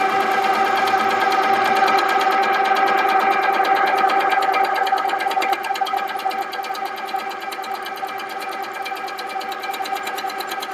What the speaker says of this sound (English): So let's do a little bit more stitching, but first we have to tighten our tension.